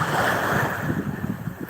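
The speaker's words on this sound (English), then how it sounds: "The waves caress my feet. The ocean is me." Ocean surf washing onto a shore with steady wind noise, a close, loud, continuous rushing wash of breaking waves with no voices.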